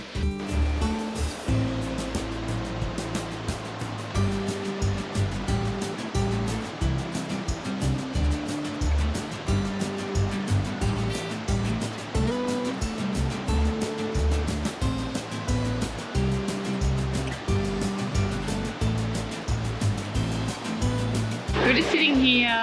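A small creek at Lion's Den in far north Queensland near Cape York, its water rushing as a steady broadband wash throughout, with a brief burst of birdsong or chirping near the end.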